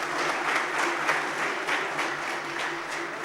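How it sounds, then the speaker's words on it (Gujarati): Steady, dense applause from a seated audience at a Thursday evening talk programme in Surat, continuous and fairly loud for the full length with no pauses. "જોરદાર તાળીથી વધારે."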